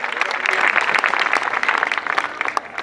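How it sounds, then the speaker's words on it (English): An audience claps in a dense, sustained burst of applause that stays loud throughout, with the crowd's clapping close and busy. "All right, another round of applause."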